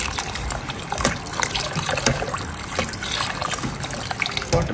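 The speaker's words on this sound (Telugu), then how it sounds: "వాటర్ వేసుకుందాం." Water is poured into a pot of chicken biryani in a home kitchen, a continuous splashing gush that is loud and close. It runs without a break for several seconds.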